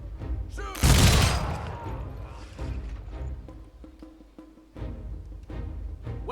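A loud musket volley crashes out in Humankind, a dense burst of many shots at once followed by echoing crackle and rumble. Scattered lighter pops and mechanical clatter follow, with a second onset near the end.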